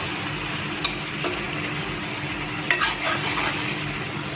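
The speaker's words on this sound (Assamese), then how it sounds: "আৰু এতিয়া মই ইয়াত অকণমান, একদম অকণমান গৰম পানী ঢালি দিছোঁ" A small splash of hot water poured into a pan of frying egg curry, a steady sizzle with a few sharp clinks and a brief bubbling surge.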